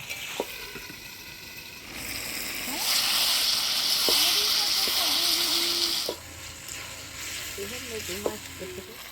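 Chicken curry sizzling and hissing in a hot pot outdoors in winter as it is stirred, a steady frying rush that swells louder for a few seconds, with scraping and clinks of the spoon and faint voices.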